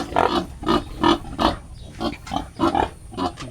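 A piglet squeals in loud, repeated shrill bursts about every half second during castration on a farm, and the cries run through the whole stretch with no voices over them.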